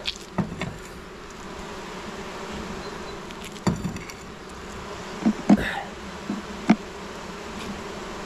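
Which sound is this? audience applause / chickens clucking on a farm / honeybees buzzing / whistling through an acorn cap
honeybees buzzing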